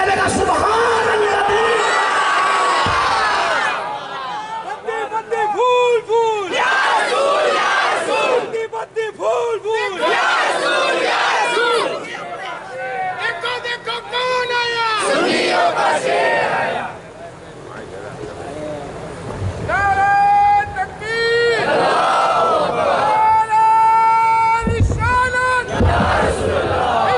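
A large crowd at an Islamic religious sermon chants loud slogans in unison, with repeated swelling voiced cries rising and falling over several bursts, separated by brief lulls, filling the hall throughout.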